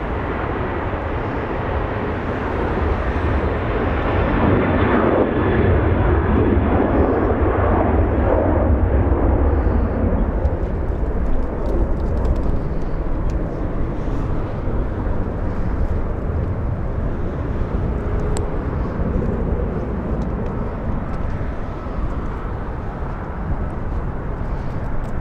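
A Qantas Boeing 777 taxiing southbound at Los Angeles International Airport, its jet engines giving a loud, deep roar that peaks early and then settles into a steadier rumble, with no speech over it.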